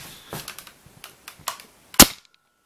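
A Nerf toy gun is handled with several light plastic clicks and rattles, then fires a dart with one sharp close snap, followed by quiet.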